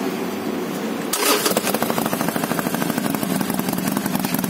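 A Harley-Davidson Iron 1200 motorcycle fitted with new aftermarket exhaust accessories starts up after a quiet moment, cranking briefly before catching into a loud, close, pulsing idle that keeps a steady rhythm.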